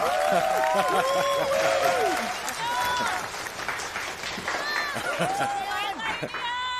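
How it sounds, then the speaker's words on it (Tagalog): Applause and cheering from a crowd at a boxing event between two gyms. Clapping sounds under loud, whooping voices and an echoing announcer's tones, with a lively, busy wash of noise throughout. "Pumalakpak naman kayo, ano ba?"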